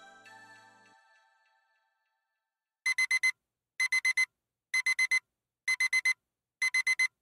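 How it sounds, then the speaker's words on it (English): A phone alarm sounds as five evenly spaced bursts of four rapid, bright beeps each, loud and clean after a fading tone and a stretch of silence. "Your phone alarm wakes you up at the optimal time of morning based on your REM sleep cycles."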